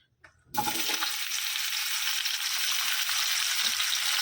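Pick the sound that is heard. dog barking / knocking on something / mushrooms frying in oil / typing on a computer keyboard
mushrooms frying in oil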